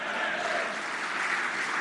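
A large crowd at an Indian political foundation day rally with the Prime Minister applauds in a dense, continuous roar of clapping, steady and loud throughout.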